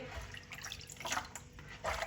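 Water runs and splashes softly while mutton is washed for a Peshawari charsi mutton karahi, a faint uneven trickle with small splashy surges, heard alone without talk.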